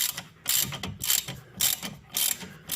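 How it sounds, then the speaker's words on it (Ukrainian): A ratchet wrench clicks in repeated bursts while loosening the front brake caliper guide bolts on an Opel Vectra B, with bright rapid pawl clicks, close and fairly loud, pausing between strokes. "Тому відкручуємо повністю болти, до яких їздить направляюча."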